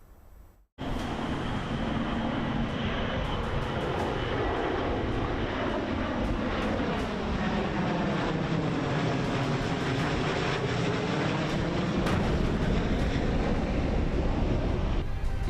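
A B-2 bomber flies past with a loud, sustained jet roar that begins abruptly and holds steady throughout, its tone sweeping slowly as the aircraft passes overhead.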